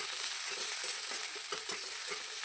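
Freshwater snails (gugli) stirred and frying in hot oil in a pan, a steady soft sizzle with faint scraping stirs, fairly quiet and even throughout.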